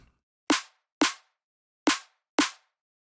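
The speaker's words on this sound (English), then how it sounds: "so the snare on its own sounds like this" Four sharp, dry snare drum hits from the Addictive Drums sample library, played solo in a drum and bass track, each a punchy crack with a short decay, spaced unevenly with silence between.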